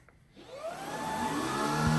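Shark ICZ300UKT anti hair wrap cordless upright vacuum cleaner running on medium power; motor whine rising in pitch as it spins up from quiet, then holding a steady loud whir.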